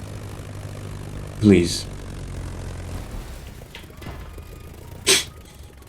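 Airplane engine in the racing game The Crew Motorfest: a low, steady droning hum under a few spoken words that fades out about halfway through, followed by a brief sharp noise near the end.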